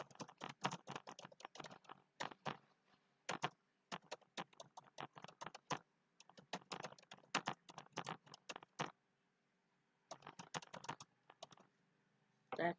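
Bursts of fast typing on a computer keyboard while entering class scheduling details, with crisp, close keystrokes broken by short pauses and a longer gap before the last flurry. No one speaks.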